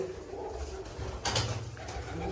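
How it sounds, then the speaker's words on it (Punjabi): A pigeon coos in low, muffled rolling notes nearby, with a brief rustle partway through and faint background noise. "ਇਹਦੀ ਪੱਠੀ ਆ ਕਬੂਤਰੀ ਦੀ ਬਿੰਦਰ ਵਾਲੇ ਕਬੂਤਰਾਂ ਚੋਂ"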